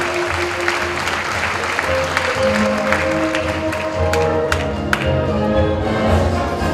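Loud, sustained applause from a seated audience fills the hall at the launch ceremony of a university's new Creative ICT engineering college, steady throughout with scattered sharper claps.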